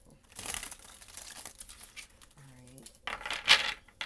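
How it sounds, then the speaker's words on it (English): Tarot cards being shuffled during a mediumship reading, giving bursts of crisp riffling and card flicks, with a brief tonal hum midway and a sharper snap near the end, close and fairly quiet. "And final shuffle for the collective."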